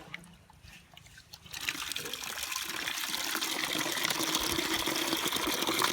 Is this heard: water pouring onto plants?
yes